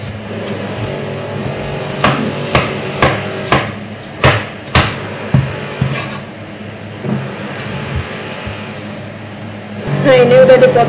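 A knife chops food ingredients on a board, giving a run of about ten sharp, separate knocks at an uneven rhythm over a steady background hum, close and fairly loud.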